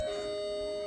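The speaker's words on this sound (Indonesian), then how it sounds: "Bel pulang sudah bunyi" School dismissal bell ringing, a steady sustained electronic tone held throughout a brief moment, moderately loud with faint background noise and no talk.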